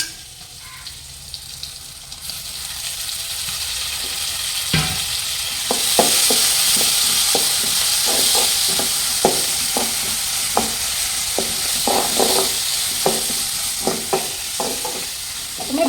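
Two tomatoes tipped into a curry pan of frying small onions, bringing a loud, steady sizzle with repeated clacks of a spoon stirring through it.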